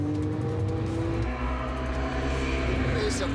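A Porsche 911 moves out to overtake an F1600 race car on a track, with a loud steady engine drone and a tone that shifts midway, close and continuous, plus a faint high sweep near the end.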